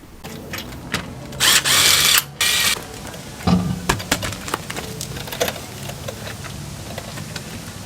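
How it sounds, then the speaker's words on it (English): Lug nuts being loosened off the wheel of a 6.2 Denali pickup truck with a power tool: a couple of loud, sustained whirring bursts, then scattered clanks and clicks of metal parts close by. "I'm going to pop this wheel off."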